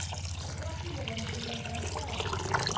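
Water poured and splashing while soaked poha and fenugreek seeds are washed, a steady close trickling and sloshing that grows slightly louder toward the end.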